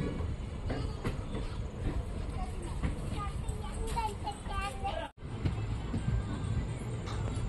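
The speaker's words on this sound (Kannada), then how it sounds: "ಸುಮಾರು 5 ನಿಮಿಷ ಹಾಲ್ಟ್ ನಂತರ ನಮ್ಮ ಟ್ರೈನು ಹಾಸನದಿಂದ ಹೊರಟಿದೆ" Onboard the Sharavati Express as it pulls out of Hassan station in India, a steady rolling rumble with faint rhythmic clatter runs throughout, with voices and children's chatter in the carriage.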